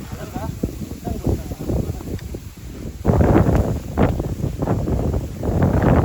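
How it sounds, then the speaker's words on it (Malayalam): Wind gusting across an open, sunny stretch of mountain trail on the Agasthyakoodam trek in the Western Ghats, rumbling steadily against the microphone and swelling louder halfway through, with people talking over it. "കാലാവസ്ഥയൊക്കെ മാറി നല്ല കാറ്റും വെയിലൊക്കെ ആയി"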